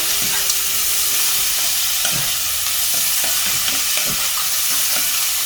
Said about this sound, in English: They're going to start browning really quick, so essentially you just want to get these nice and brown.